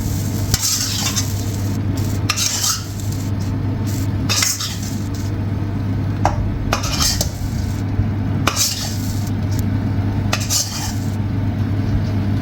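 Boiled rice being stirred into a vegetable stir fry in a pan, a steady metal spatula scraping and clinking against the pan every second or two over continuous sizzling and a low background hum.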